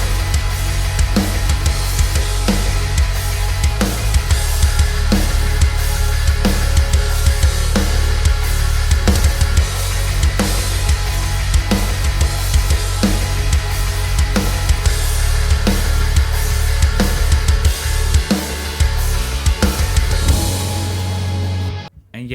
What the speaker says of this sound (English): if I mute the main guitars and play you the main riff, it sounds like this